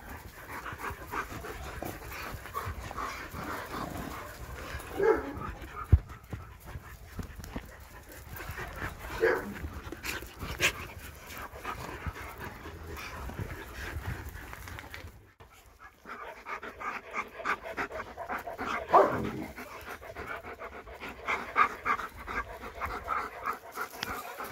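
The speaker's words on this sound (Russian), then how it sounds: "Красивый какой пес." A handsome dog pants rapidly and steadily close by, a rhythmic breathy huffing that pauses briefly midway, with a few faint whimpers among the breaths.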